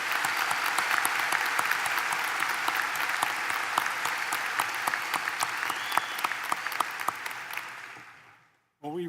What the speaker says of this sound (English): Won't you join me in another round of warm applause for Kareem Abdul-Jabbar,